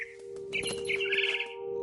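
A mother bird chirping in the video game What Remains of Edith Finch, a quick series of bright high tweets over a steady low hum, close and moderately loud.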